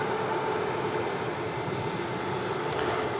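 An airliner at Sydney Airport produces a steady, broad engine roar that stays constant throughout the moment, heard from a plane-spotting position with no one talking.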